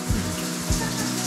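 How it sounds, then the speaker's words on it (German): Water pouring from an overhead shower inside a tiny house, a dense, steady close-up rush that runs continuously. "Gut, jetzt kommt das Wasser von hier oben."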